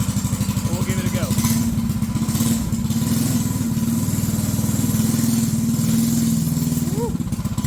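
A Ghost Racing small engine fitted to a toddler-sized racecar bed runs continuously at close range, a loud rapid put-put chugging with steady firing pulses and slight rises in pitch, with faint voices underneath.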